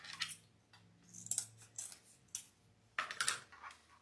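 Scissors snip through craft ribbon while a retro 1970s Christmas wreath is assembled, giving several short, crisp cuts close by in an irregular rhythm, with no talking.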